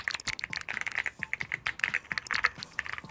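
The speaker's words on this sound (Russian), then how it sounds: "послушайте звук, который издают клавиши при работе" Typing on a Keychron Q6 Max keyboard with PBT keycaps, a steady run of crisp, close key clicks and thocks at a brisk, uneven rhythm with no talk.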